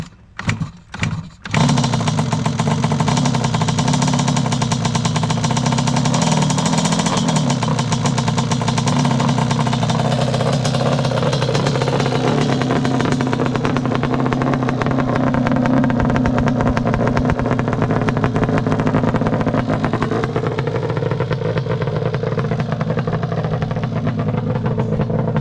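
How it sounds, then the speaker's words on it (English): A stock Yamaha Banshee 521 ATV, twin carbs on pump gas with choke out, fires up after a few short cranking bursts and settles into a loud, steady, buzzing two-stroke idle that runs on alone for about twenty seconds. "Let's see if this 521 fires up."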